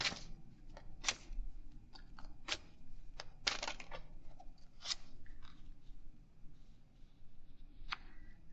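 Tarot cards are pulled from a deck in a run of crisp, light slaps and flicks, irregular and close, each brief against a quiet room.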